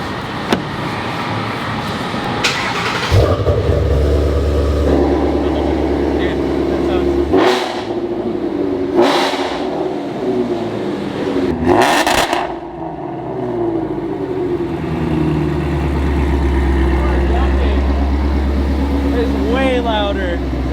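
A Shelby GT350 with Kooks headers and X-pipe idles with a deep rumble, then revs sharply several times in loud, popping bursts before settling back to a throaty idle.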